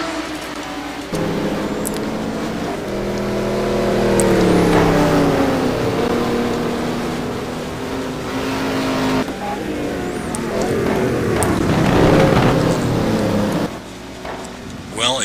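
Race car engines drone and rise in pitch during a pit stop in a GT1 racing game at Spa-Francorchamps, a steady loud layered roar with revving swells, under commentator talk.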